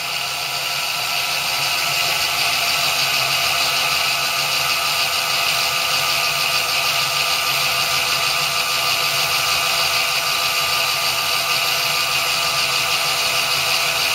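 An electric motor runs steadily at about 5,021 RPM during torque testing, a loud, even, continuous whine and hum with no change in pitch.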